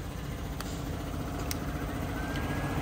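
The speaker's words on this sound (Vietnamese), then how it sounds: "nổ máy nghe hay lắm" Honda Bros 400 motorcycle engine idling with a restored exhaust, a steady low rumble held at an even level throughout, with a few faint clicks over it.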